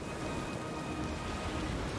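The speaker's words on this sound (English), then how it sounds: "The storm picks up, lashing your ship and driving you dangerously close to a rocky shore." Steady heavy rain beats on a ship's deck in a stormy sea scene from Pillars of Eternity II: Deadfire, a dense, even hiss of rainfall that fills the whole stretch at a soft level.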